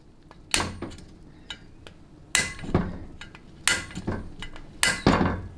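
A hammer strikes a center punch into metal on a transmission part, giving four sharp metallic clinks spaced about a second apart, close and loud, some doubled, with no talk.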